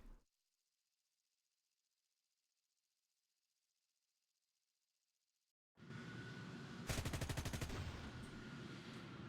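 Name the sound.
FJ4B tank cannons firing in a video game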